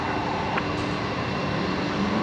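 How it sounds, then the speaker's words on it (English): QantasLink airliner at Brisbane Airport rolling for takeoff at night, a steady broadband engine roar that holds evenly throughout at moderate distance, with no talk over it. "Qantas Link 1287 rolling off to Melbourne tonight."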